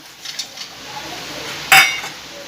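A metal spoon stirring puffed rice chivda in a pan, with soft scraping and light clinks against the metal, capped by one sharper clang near the end.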